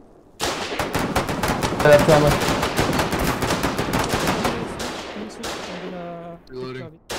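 Sustained rapid gunfire in the Foxhole war game during a fort battle, loud overlapping automatic bursts that thin out toward the end, with a voice speaking briefly over the shooting.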